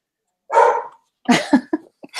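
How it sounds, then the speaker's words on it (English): Dogs barking inside a house as a big truck drives past out front: one long, full bark, then a quick run of shorter, sharper barks and yips, fairly close and loud. "My dogs are barking."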